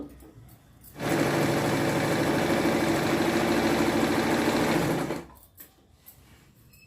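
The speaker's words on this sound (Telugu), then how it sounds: "ఇంకా మనము స్టిచ్చింగ్లోకి వెళ్ళిపోదాం" Sewing machine stitching patiala pant fabric in a fast, even whir that runs for about four seconds, close and loud, with quiet handling sounds before and after.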